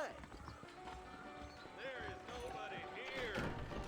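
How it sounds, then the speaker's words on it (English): Horse hoofbeats and whinnies in the video game Red Dead Redemption, with a steady clip-clop and several rising and falling neighs in the foreground over a low ambient background. "Hitch up the horse. Okay, cool. Horse hitched."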